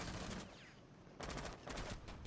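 Rapid gunfire from a round of Tom Clancy's Rainbow Six Siege, close and loud, with a burst at the start, a short pause, then more continuous shooting with distinct shot pulses.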